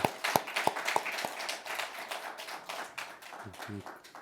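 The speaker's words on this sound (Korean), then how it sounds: "우리에게 2020년도를 주신 하나님께 영광의 박수 올려드립니다." Church congregation clapping in praise at a New Year's Eve service: a few sharp separate claps at first, then looser scattered applause with murmuring voices, fairly quiet and ending with a couple of low sounds.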